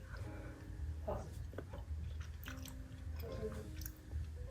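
Cream cheese peanut butter fudge being chewed close to the mic, with soft, moist mastication sounds and a few small clicks over a steady low background hum.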